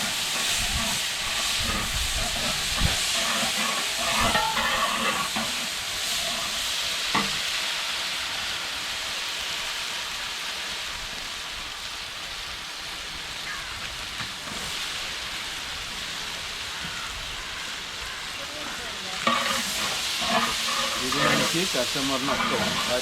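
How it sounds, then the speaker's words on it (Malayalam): Onions sautéing in hot oil with fennel and chillies in a large batch for wedding biriyani and chicken roast for 150 people, a continuous loud sizzle and hiss with repeated stirring scrapes throughout. "ഇനി സവാള നന്നായിട്ട് വഴറ്റിയെടുക്കണം."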